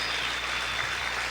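A church congregation keeps up a dense, even wash of clapping for a brief moment, steady and fairly loud with no clear voices.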